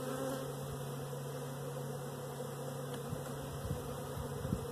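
A steady, dense hum of honey bees fills the air over an open hive during a spring brood inspection, close and unbroken, with faint low thumps near the end.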